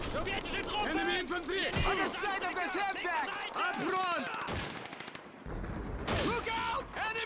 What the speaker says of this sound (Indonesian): Mereka disitu pakai MG42 guys